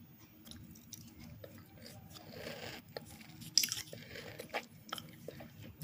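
Close, quiet crunching and chewing of a Kinder Creamy chocolate wafer, with a few sharper crisp bites rising above the soft mouth sounds.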